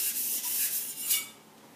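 A Takeda gyuto knife is drawn across a wet whetstone in a few short rasping strokes, close and crisp, with light scraping bursts that fade out at the end.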